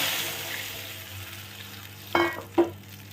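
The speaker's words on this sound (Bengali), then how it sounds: "এবার দিয়ে দেবো, আমার ওটা ভাজা হয়ে গেছে, এই ছেঁকে রাখা মশলাটা" Strained spice paste goes into hot oil in a frying pan for a Jessore-style koi fish curry: a quiet kitchen background, then two sharp, close sizzling bursts in quick succession near the end.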